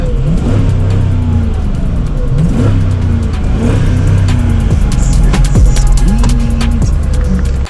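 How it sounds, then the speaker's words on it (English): Chrysler 300 V8 revving hard in repeated loud bursts, each rising and falling in pitch, with a steady throaty idle rumble between blips, close and dominant throughout. "that engine sounds pretty freaking good"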